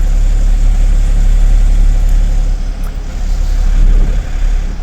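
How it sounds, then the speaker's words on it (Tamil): A parked 3-ton truck engine idles, a loud steady low rumble with a slight dip partway through, close and continuous with no voices. "ரன்னிங் கண்டிஷன்லேயே இருக்குது வண்டி இன்னமும்"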